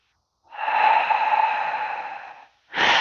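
Slow, deliberate breathing during an advanced Pilates exercise, a long, loud exhale through the mouth lasting about two seconds, then the start of a sharp inhale, close and alone.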